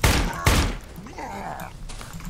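Two sharp pistol shots crack close together from the Darkwood video game, each a loud, abrupt burst followed by quieter in-game rumbling and tonal sounds.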